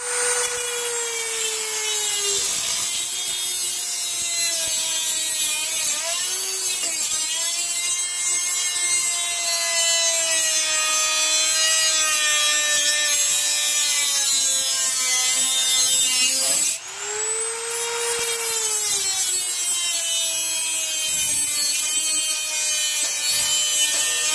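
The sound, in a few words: Dremel rotary tool cutting a square piece for tow hook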